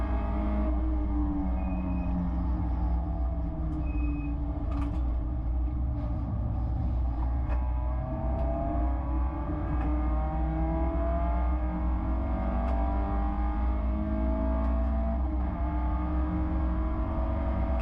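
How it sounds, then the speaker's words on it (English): Race cars in a Bathurst 6 Hour sim racing game roar steadily down the straight, a continuous dense engine drone with layered rising tones as the pack pulls away, no talking. "the cars just pulled away."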